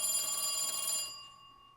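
A telephone rings with a steady electronic bell tone for about a second, then the ring fades out and near silence remains.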